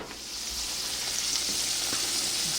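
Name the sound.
breaded turkey fingers frying in oil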